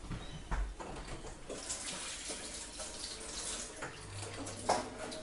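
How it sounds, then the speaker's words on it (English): Kitchen tap running while hands are washed between steps of making chicken stock, a steady close stream of water with small splashes and shifts in flow. "I'm just going to wash my hands."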